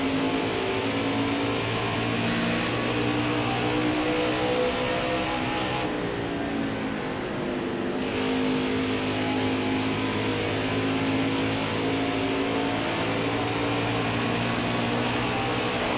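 A NASCAR Heat 5 stock car engine drones steadily during an Xfinity Series race at Iowa, a loud sustained roar with shifting harmonic pitch and a brief dip partway through.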